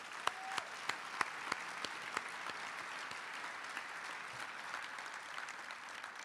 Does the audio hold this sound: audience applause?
yes